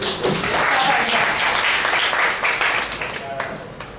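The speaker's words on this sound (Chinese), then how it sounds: "然后我们就是再次掌声欢迎" Audience applause at a talk on trail building and nature ecology, a dense steady clapping that holds loud for most of the four seconds and then thins slightly toward the end, with some voices mixed in.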